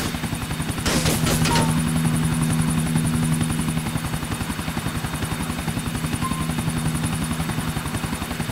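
A helicopter in the video game GTA 4 flies steadily and loudly, rotor thrum continuous throughout with a brief burst of other game noise near the start.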